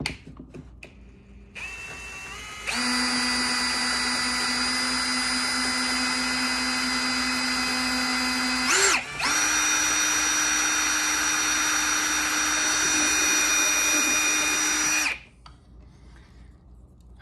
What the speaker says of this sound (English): You want to put in 4 screws on the 4 corners